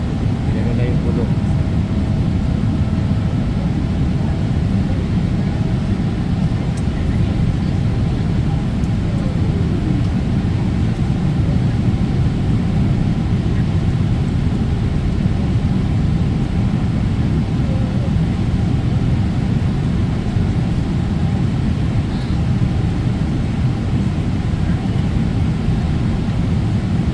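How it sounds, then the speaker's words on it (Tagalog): Airplane cabin during a descent through heavy cloud, a steady loud low engine and air roar that holds for the whole stretch. "Kaya nahirapan yung aming aeroplano."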